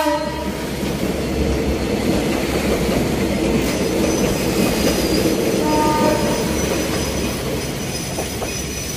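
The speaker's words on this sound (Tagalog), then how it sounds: "At ito po yung train, parating na naman." A PNR commuter train arrives in Manila, a loud continuous rumble of wheels and cars with squealing metal and horn tones, heard close, with no talking.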